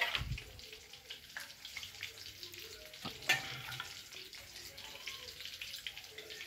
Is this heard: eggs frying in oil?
yes